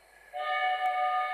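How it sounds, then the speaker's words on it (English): In the video game Sherlock Holmes: Crimes and Punishments, a train arrives at a station, sounding a steady, clear whistle-like tone that starts abruptly after a quiet moment and holds. "The train is arriving at the station."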